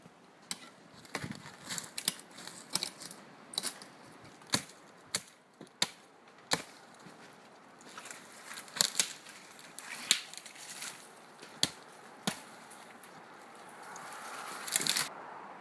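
A knife chops into wooden poles for an ice shack outdoors near frozen lakes, sharp irregular cracking strikes spaced a second or two apart over a quiet background.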